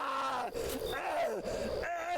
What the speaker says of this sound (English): What are those screams of pain?